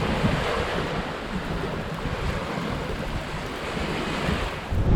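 Strong wind and breaking waves at sea rush past a sailboat as rain squalls and gusts move in, a loud, continuous roar of wind noise and surf with no talking.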